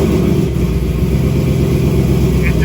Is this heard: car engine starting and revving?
yes